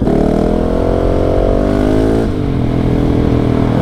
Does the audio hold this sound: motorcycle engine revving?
yes